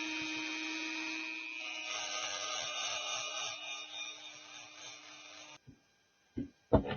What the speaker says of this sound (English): Next, we have to grind these two off.